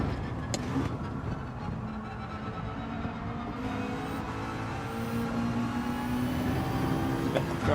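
Ferrari race car in Gran Turismo 7, its engine whining and rising in pitch at a steady high-revving drone, passing through gears with a distant hum of other cars beneath it.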